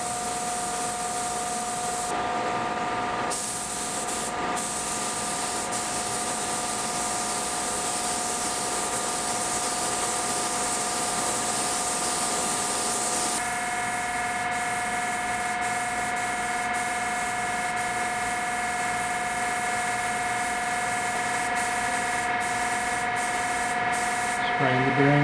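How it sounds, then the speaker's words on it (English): A spray gun lays a first sealer coat onto an 8-inch Bubinga stave drum shell, giving a steady continuous hiss that runs the whole time, rising and brightening midway, with a constant hum beneath. "This is an 8-inch Babinga shell. Putting the first coat of sealer on."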